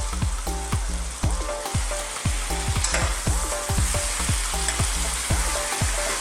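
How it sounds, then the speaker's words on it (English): Beef is stirred into a bubbling tomato sauce for a beef and mushroom stew, loud steady sizzling punctuated by regular scraping spoon strokes close by, with no speech. "We're now going to add our beef. So we're going to get that in. We're going to give that a stir."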